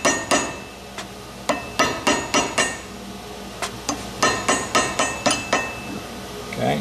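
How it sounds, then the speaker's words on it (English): A hammer bashes slag off a small metal assay button, giving sharp ringing metallic strikes in irregular bursts, some in quick runs of three or four, close and alone with no talking. "bash both sides, then bash the corners, and then just kind of round it up a little bit"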